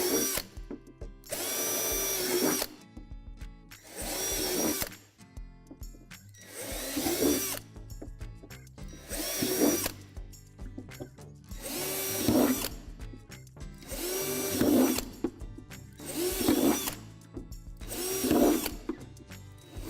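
A power drill bores out divots and holes in the molded plastic sink of a Lifetime Imagination Playhouse, running in eight loud, close bursts of whining motor and grinding bit, each split by short pauses.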